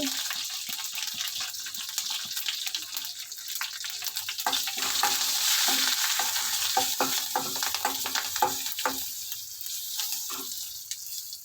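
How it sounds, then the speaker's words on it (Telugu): Steady hissing sizzle of spices tempering in hot oil for tomato rasam, with occasional stirring clinks and scrapes, fairly close and continuous. "అదే రసంలో తాలింపు వేసేసుకుందామండి"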